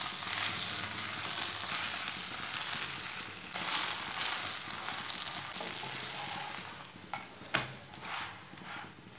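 A spinach and rice flour roti cooks on a hot griddle with a soft, faint, continuous sizzle, with a few sharp taps and clicks near the end and no voices.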